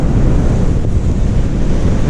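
Big waves surging onto a shale beach at Sandsend on the Yorkshire coast in winter, a loud, continuous low roar with wind buffeting the microphone throughout and no voices.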